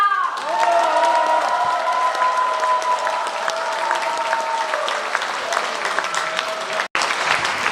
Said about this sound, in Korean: 여러분의 큰 함성과 박수로 시작하겠습니다